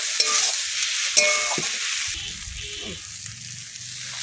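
Fish curry with elephant foot yam being stirred in a pan: a few scraping strokes of a spatula over soft sizzling, then a quieter low bubbling simmer.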